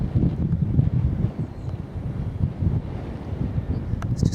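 Wind buffeting the microphone on a coastal clifftop walk toward Eastbourne, a steady rough rumble with gusty swells and no voices.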